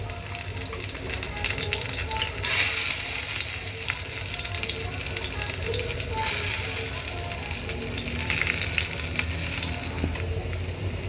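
Garlic cloves and green chillies frying in hot mustard oil, giving a loud continuous sizzle with scraping stirring throughout and music playing faintly in the background.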